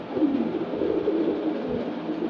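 Pigeons cooing in a loft, several male birds, a steady low murmuring coo that runs throughout, close and moderately loud.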